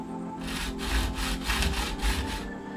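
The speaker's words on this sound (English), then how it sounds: "I've put the sheeting on the rear hatch and now I'm going to trim it out." Sheeting on the rear hatch of a teardrop camper being trimmed in a small workshop: a rhythmic sawing rasp, about six close strokes in quick succession, with no talking.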